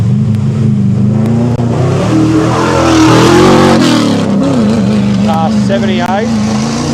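Rally car with a Ford Barra engine accelerating hard on a gravel stage, a loud, close, rising engine roar with shifting pitch and gear changes, with a commentator talking over it.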